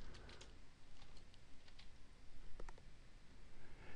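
Quiet typing on a computer keyboard while entering a spreadsheet formula in Excel, a scattering of soft, faint key clicks in small irregular bursts over low background hiss.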